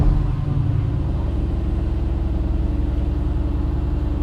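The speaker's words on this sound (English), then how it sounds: "Let's start her up." A Mercedes-AMG GT R with a performance exhaust fires up nearby, opening with a loud burst and settling into a deep, rumbling idle that pulses steadily, close and alone without talk.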